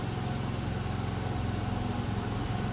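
An 11-year-old Honda Activa 125 scooter runs on its own with no throttle applied, giving a quiet, steady low engine hum that stays even throughout with no revving.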